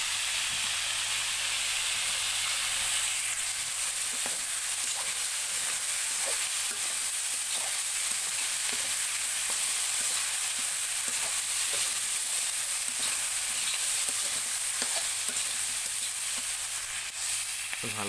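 Spices frying in a pan on a stove while they are stirred, heard as an even hiss under frequent small scrapes and clicks of the spoon, with no voices.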